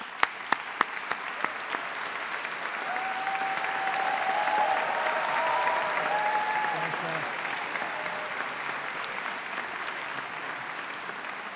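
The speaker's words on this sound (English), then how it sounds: "let's take a moment to acknowledge and applaud your friends, family, and supporters for everything that they have done" A graduation audience at a Faculty of Science ceremony applauds friends, family and supporters: steady, dense clapping from a large crowd that swells in the middle, with a few sharp claps at the start.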